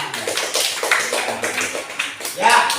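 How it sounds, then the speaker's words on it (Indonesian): Classroom students clap in a brief, uneven burst of quick hand claps during an Islamic studies lesson, with talking mixed in. "Beri tepuk tangan."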